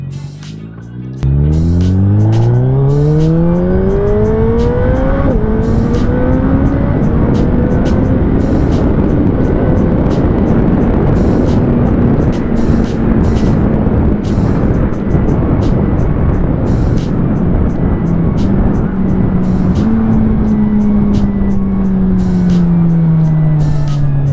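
Suzuki Hayabusa Gen-3 motorcycle engine revving up and holding against its RPM limiter, a loud, sustained high-pitched roar that climbs steeply at first and then stays pinned near one pitch with slight wavering and a brief bump near the end.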